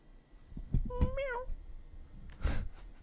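A chatty female house cat meows once in a drawn-out, rising-and-falling call at close range, followed by a soft breathy sound and a brief burst of movement noise.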